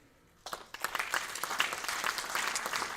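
An audience breaks into applause after a testimony at a Gurukula gathering, a sudden burst of steady, moderately loud clapping that continues without talk.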